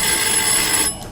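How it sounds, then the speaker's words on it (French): A telephone rings in an office with a steady, loud, continuous bell tone that stops abruptly near the end. No voices are heard. "il a son bureau quand le téléphone sonne"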